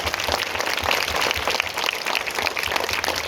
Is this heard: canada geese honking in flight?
no